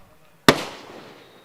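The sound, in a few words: firecrackers bursting to welcome a guest at cricket match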